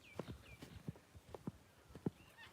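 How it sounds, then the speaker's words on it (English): A horse being let out onto open ground on a sunny day, its hooves clip-clopping in a loose, uneven rhythm of about six distinct thuds, close and fairly quiet, with no talk over them. "I'm going to let this horse out so she can play a bit."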